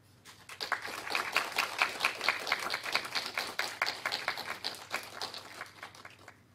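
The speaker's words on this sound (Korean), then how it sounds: "나오실 때 우리 박수로 환영하도록 하겠습니다." A church congregation claps together to welcome a missionary to the pulpit on a missions Sunday, a steady, moderately faint patter of many hands that swells, holds for several seconds and then tapers away.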